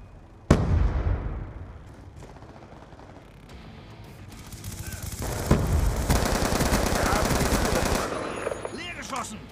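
Gunfire in the video game Black Ops 2: a sharp opening shot, then sustained automatic bursts and crackling fire building loud and dense across the second half, with some mixed game effects.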